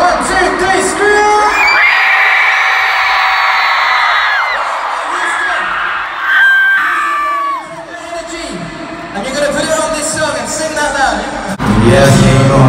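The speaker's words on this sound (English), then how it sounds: "So, on the count of three again, 1, 2, 3, scream!" Concert crowd at a world tour show in Texas screaming and cheering loudly in sustained waves, with music and singing running throughout and a brief dip before the roar swells again.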